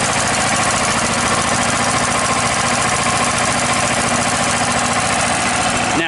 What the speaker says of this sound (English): Now it's idling real low because I have the idle control on